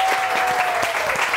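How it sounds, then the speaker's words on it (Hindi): Studio audience applauding steadily on a Hindi-Urdu morning television show, a dense continuous patter of many hands clapping at moderate loudness throughout, with no talking over it. "आप सुनते ब्रेक के बाद बहुत सारे तालियां"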